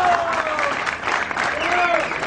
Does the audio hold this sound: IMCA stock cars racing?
no